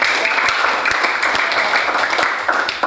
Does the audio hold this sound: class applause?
yes